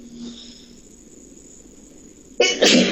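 A single sudden sneeze bursts out near the end, loud and close, after a stretch of quiet room tone.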